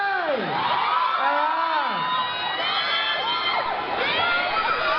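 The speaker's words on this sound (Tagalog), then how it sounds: "Isang malakas na sigawan at iyawan para kay..." A fan-day crowd at a concert event shouts, whoops and cheers loudly and continuously, high excited voices sweeping up and down in a dense, close roar.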